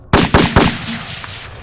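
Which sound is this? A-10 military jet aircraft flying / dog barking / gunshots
gunshots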